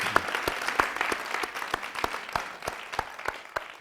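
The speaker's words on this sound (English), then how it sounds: "To the Library Foundation, a round of applause for this evening and for their work, and to Karl Marlantes" Fairly faint audience clapping after an evening talk with an author hosted by a library foundation, with distinct hand claps at an uneven rhythm over soft background noise.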